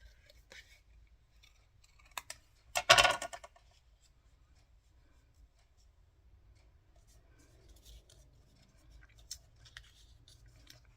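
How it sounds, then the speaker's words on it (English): Scissors snip through card stock for a handmade Mother's Day papercraft card in one short, close burst of crisp cuts, surrounded by quiet handling noises. "Might need to cut"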